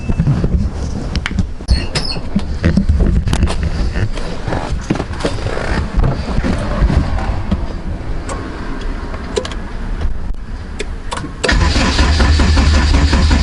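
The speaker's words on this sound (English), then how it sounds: "let's go crank over and see if this starts now" A Honda Accord AWD that has been sitting cranks over with a long, rapid ticking starter whir, then catches near the end and settles into a louder, steady idle, recorded close up with no voices.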